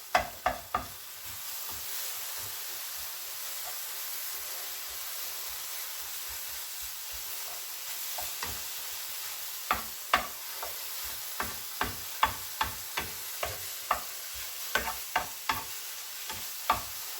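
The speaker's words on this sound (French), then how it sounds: "ça s'épaissit, la sauce des pommes. En remuant tout le temps." Apple sauce thickening in a pan is stirred steadily, a soft sizzle running under repeated scraping strokes that grow sharper and more frequent toward the end, with no talking.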